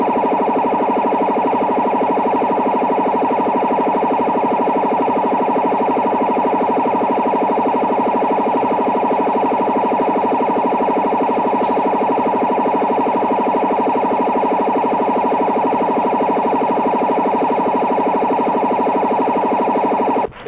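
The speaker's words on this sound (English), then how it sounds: "Wobbler jammer is a kind of jamming system which is used especially in Cuba, Iran, and Middle East." A wobbler radio jammer sending a swinging carrier over a foreign station's frequency, a loud continuous warbling tone that wavers rapidly up and down in pitch over steady hiss, unbroken for about twenty seconds.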